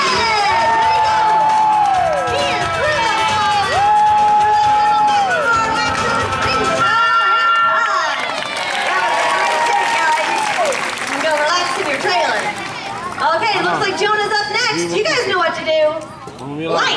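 A crowd at the Universal Studios Hollywood Animal Actors show cheers, whoops and applauds, children's shouts mixed in, loud and close, with an amplified voice and music over the noise at times.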